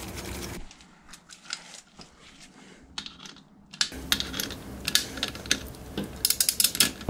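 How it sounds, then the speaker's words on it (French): A screw is tightened on a KTM 640 LC4 motorcycle during an oil change, giving quiet close clicks and ratcheting ticks, sparse at first and then a quicker run of sharp metallic clicks. "là je viens serrer ma vis."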